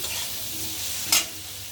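Shrimp and water lily stems fry in a pan, a soft continuous sizzle under a single brief scrape of stirring near the end, close and moderately loud.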